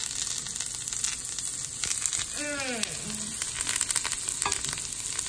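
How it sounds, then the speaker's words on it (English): Lion's mane mushrooms fry in butter in a pan, a steady close sizzle with crackles throughout and a brief scrape of flipping partway through. "now that there's still some butter in there and it's not fried down, I'll give those a little flip"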